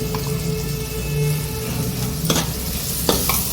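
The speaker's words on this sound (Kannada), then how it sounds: "ತುರಿದಿರೋಂಥ ಮಾವಿನಕಾಯಿನ ಹೀಗೆ ಇದು ಮಾಡ್ತಾ ಇರಬೇಕು ಕೈ ಹಾಕ್ತಾ ಇರಬೇಕು ಇಲ್ಲಾಂದರೆ ಸೀಯುತ್ತೆ" Grated raw mango and coconut sizzle in oil in a pan, a steady close hiss broken by a few sharp scrapes and knocks as the mixture is stirred.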